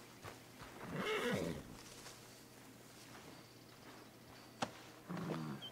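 A horse in Red Dead Redemption 2 gives a loud whinny early on, followed by quieter hoof sounds and a sharp knock, with another brief burst near the end against a low ambient hum.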